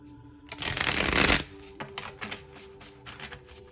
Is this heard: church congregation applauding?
no